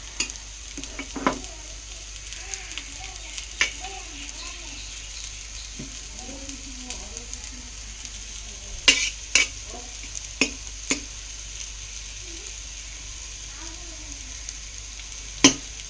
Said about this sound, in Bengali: আর ওদিকে তো ভাজাটা হচ্ছে এখনো।